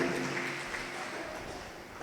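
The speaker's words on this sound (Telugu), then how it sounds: "దేవుడు చేసిన మేలును బట్టి గట్టిగా చప్పట్లు కొట్టి దేవుని మహిమ పరుద్దాం" A church congregation claps loudly in praise during a testimony service, a dense, steady wash of many hands that holds for about two seconds.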